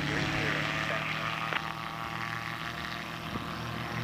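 A gyrocopter's propeller engine holds a steady, loud, close drone throughout as the throttle comes up for takeoff, with a couple of brief clicks, and no speech.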